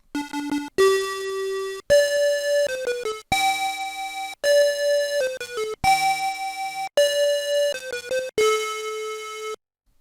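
Thick, slightly wavering electronic tones from several TI-99/4A tone generators, offset by 1–2 Hz from the target pitch, play a short melody in separate phrases, the detuned notes giving a chorused, shimmering buzz with brief gaps between.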